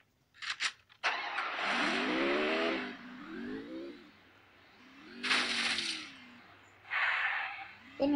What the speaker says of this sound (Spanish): Voy a ir en el auto.